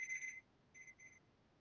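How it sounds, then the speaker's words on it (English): An alarm goes off faintly in the distance: three quick electronic beeps, a pause, then two more in a short pulsing pattern. "What alarm even is that?"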